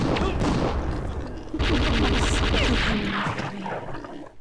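Shotgun blasts and chaotic combat noise from the video game Redneck Rampage, loud and dense throughout, with a sharp burst of heavy firing midway and no clear pauses.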